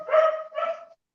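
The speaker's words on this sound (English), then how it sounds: "our neighbor's dogs barking" Neighbour's dogs barking, two loud, close, low barks in quick succession with no one talking over them.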